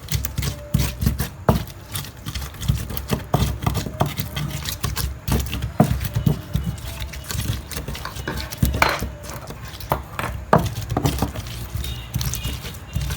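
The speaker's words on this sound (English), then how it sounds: "I will grind until it becomes smooth." Boiled pepper ground by hand until smooth, heard as a steady, fairly quiet stream of rapid tapping and scraping strokes with uneven rhythm, continuing throughout.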